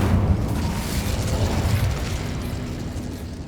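A fire-blast spell from Hogwarts Legacy erupts in a loud, sustained roaring burst that booms up front and then slowly rolls off over a few seconds, with no voices over it.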